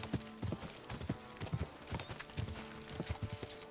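Horse hooves galloping in Kingdom Come: Deliverance 2, a quick rhythmic clip-clop of a fast horse running steadily, close and clear.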